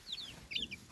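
A chicken on a Zimbabwe homestead gives two quick, faint clucks, short high chirpy calls set against quiet outdoor background.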